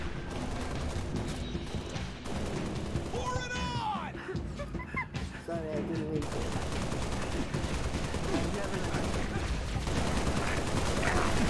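Sustained gunfire in the shooter Halo: Reach, dense rapid bursts and fusillades rolling continuously over a loud battle soundscape, with a voice speaking over the shooting.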